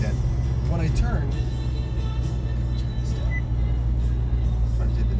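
A 1965 Ford Mustang with a C4 automatic transmission drives along steadily, its engine hum and road rumble continuous and close, while someone talks over it.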